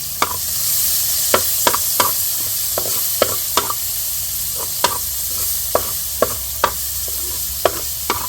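Garlic and onion sautéing in a pan for a bean sprout dish, a steady sizzle punctuated by sharp regular taps and scrapes of a spatula against the pan, close and clear with no talking.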